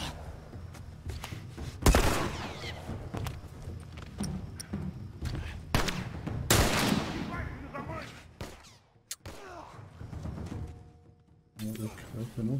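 Repeated bursts of gunfire in The Last of Us video game, with sharp cracks and booms over a dense, noisy battle backdrop, some shots close and loud, others muffled.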